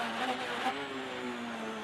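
A rally car engine on a European Rally Championship stage in France holds a steady mid-range drone with a brief rise in revs near the start, then settles into a smooth sustained tone.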